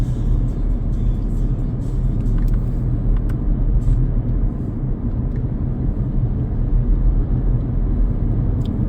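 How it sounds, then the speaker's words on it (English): An automatic car with paddle shifters drives along a country road near Amberley in Sussex, giving a steady, loud interior road and engine rumble that holds constant throughout with no speech. "as we drive into the 40-mile-an-hour zone"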